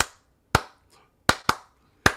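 Four sharp, isolated claps ring out against silence, each a single crisp burst with a quick decay, spaced unevenly like a clapping sound effect triggered on a morning show.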